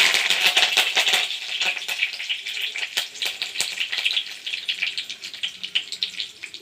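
Curry leaves hit hot oil with a burst of crackling and sharp spitting pops, close and loud at first, then easing into a rapid, uneven sizzle.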